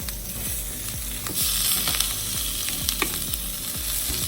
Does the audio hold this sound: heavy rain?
no